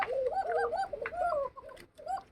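Pigeons coo steadily and close by, a pair of birds sounding repeated throaty rolling calls in overlapping phrases, with no talk over them.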